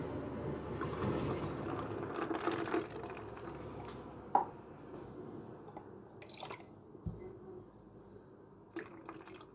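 Water trickles and drips into a cocktail glass over syrup, a quiet liquid pour with a few small clinks, fairly close and without talk.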